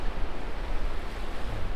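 Sea waves washing in as high tide approaches at a cold-weather beach campsite, a steady broad rush of surf close by with some wind noise on the microphone, no talking.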